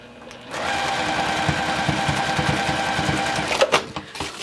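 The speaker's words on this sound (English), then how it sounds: "have my sewing machine and just start sewing." A sewing machine runs steadily, its rapid mechanical stitching rhythm close and loud, starting after a brief pause and ending with a few clunks.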